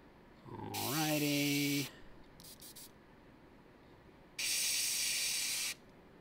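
An airbrush sprays paint onto black miniature armor in two bursts of steady, close hiss, a short one early and a longer one later, with a brief sputter between; a faint voice-like tone sounds under the first burst.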